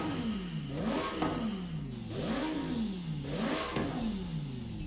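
Lamborghini's 6.5 liter V12 in a racing video game, revving repeatedly in steady cycles, pitch climbing and falling about once a second, loud and continuous with no talk.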